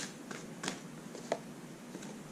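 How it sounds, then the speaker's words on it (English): Tarot cards being shuffled by hand, a soft papery riffle with a few brief crisp snaps, fairly quiet and close with no talking. "Oh, I'm still shuffling."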